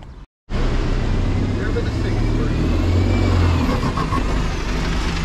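A London H37 bus near Isleworth rumbles loudly and steadily after a brief silent gap, its mid-pitched diesel engine droning close by for several seconds while people talk.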